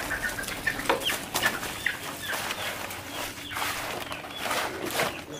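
Chicks shuffle about inside a cage, with close, scattered chirps and brief wing flutters over a steady low background.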